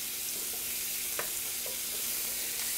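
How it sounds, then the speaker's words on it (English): Onions cooking in a pan for osso bucco, a soft, even sizzle with a few faint stirring clicks, steady and moderately quiet throughout with no talking. "Want to stir them around a little bit. And those onions will break up just a little bit as you go."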